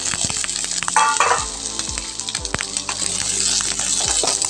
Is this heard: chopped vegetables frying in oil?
yes